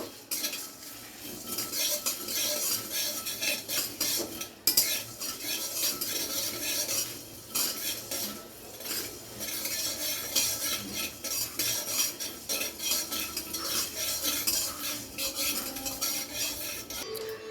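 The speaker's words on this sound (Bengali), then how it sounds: "তো কড়াইটাকে খুব ভালো করে গরম করে নিয়েছি। এরপরে মশলাগুলোকে দিয়ে খুব ভালো করে ভেজে নেব।" Loud, continuous sizzling of spices frying in a hot kadai with frequent metallic scraping and clinking of a utensil stirring, steady throughout with no talking.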